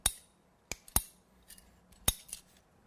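A cake support rod being cut to length with a cutting tool on a cake-decorating bench gives a few sharp, separate snips and clicks, close and fairly faint in a quiet room.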